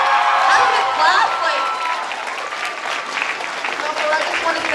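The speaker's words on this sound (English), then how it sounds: "Can we give a round of applause for Mrs. Fenwellston for just being Mrs. Fen" Audience applause at an awards presentation, a steady wash of many hands clapping that holds loud and continuous throughout, with some voices mixed in.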